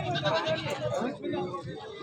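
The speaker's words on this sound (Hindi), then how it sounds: "ये अच्छी काफ़ी हाइट वाइज कद काट वाली बकरियाँ हैं मेरे सामने और साहिवाल नस्ल की हैं" Sahiwal goats, tall black and white animals, bleat at a crowded livestock market in Lahore, with calls rising over constant chatter and voices of people talking nearby.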